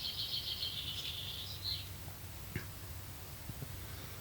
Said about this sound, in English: No, it's a blue tit, I think.